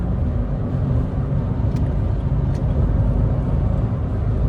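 Smart Fortwo with a 0.9-litre turbo engine cruising down a straight road, a steady close engine and road rumble from inside the car with no speech.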